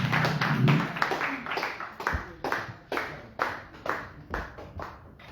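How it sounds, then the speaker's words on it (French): A church audience claps in rhythm at a teaching session, sharp hand claps repeating steadily and fairly close, with no clear cheering heard. "on s'acclame tous pour les bénédictions"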